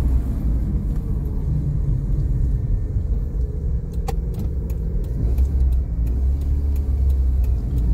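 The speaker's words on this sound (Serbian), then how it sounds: "Mazda 323 kakva je u vožnju." A 1990 Mazda 323 driving along, its engine and road rumble a steady, close drone throughout, with a faint jingle of keys in the cabin and no talking.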